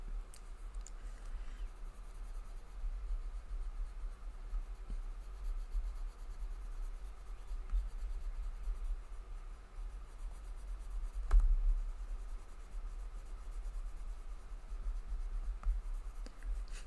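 Colored pencil, then a blender pencil, worked across paper: a soft, continuous scratchy rubbing of strokes at low volume, steady throughout with no talking.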